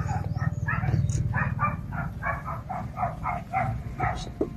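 Dogs bark in quick repeated bursts, several close-range yaps running nearly continuously over a low background rumble.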